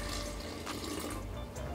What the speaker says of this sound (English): Poured it a little too fast.